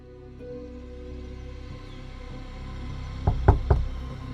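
Knocking on a door, three sharp, loud raps in quick succession near the end, standing out after a stretch of quiet low background hum.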